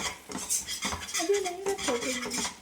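A Mysore pak mixture of gram flour and oil is stirred in a pan, giving continuous close scraping and clinking of a spoon against metal with a faint sizzle and a brief squeaky rub midway.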